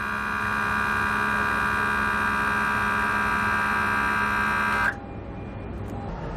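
An Air Lift WirelessAIR compressor pumps air into air helper spring bags with a loud steady electric hum and buzz that cuts off abruptly near the end, leaving a quieter background.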